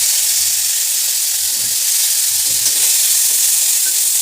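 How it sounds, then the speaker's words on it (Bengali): Steady, loud sizzling of dried fish frying in hot oil with salt and turmeric, a constant hiss with occasional stirring scrapes, close by and without voices. "এগুলো হালকা করে ভেজে নেব"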